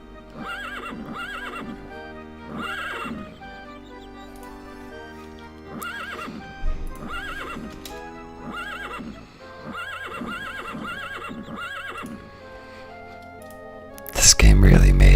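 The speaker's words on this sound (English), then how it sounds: "This game really made a strong effort to make sure that the horse noises weren't annoying." A horse in the game Daggerfall neighs repeatedly in regular bursts over a steady droning background, with hoof clip-clop mixed in, ending in a loud burst of noise.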